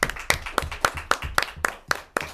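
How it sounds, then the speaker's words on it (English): About nine sharp claps ring out in an even, steady rhythm for a fifth grade basketball team, close and clear with no talking over them. "let's give them a round of applause"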